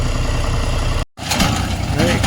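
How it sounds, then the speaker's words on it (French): A tractor running with a hay baler in rural Romania, a loud steady mechanical drone with a brief dropout midway before the engine rumble resumes, voices talking over it. "Et voilà le tracteur et la botteleuse."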